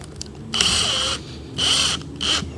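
A power drill drives screws through a cover plate over an old antenna hole, three close whirring bursts of about half a second each, with short pauses between them.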